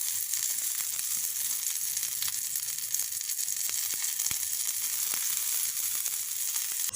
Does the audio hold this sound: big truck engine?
no